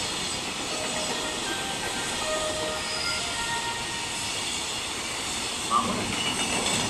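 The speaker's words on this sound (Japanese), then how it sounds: "まもなく一般線の電車が向かいます。" Steady broadband rumble and hiss of a freight train hauled by an EF210 electric locomotive passing through Kiyosu station, constant and fairly loud for several seconds, with a faint squeal near the end.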